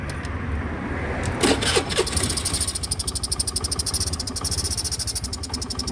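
A Honda Scoopy scooter with a fault that lets it start but die when the throttle is twisted, even after an injector change, cranks and catches, then settles into a rhythmic pulsing idle, close and loud.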